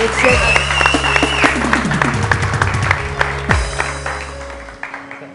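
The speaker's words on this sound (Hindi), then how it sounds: "तालियां बजाइए, भाग के आइए।" Studio audience at a televised morning show bursts into sustained applause, dense clapping filling the room throughout, with a host's voice and music stings cutting in over it.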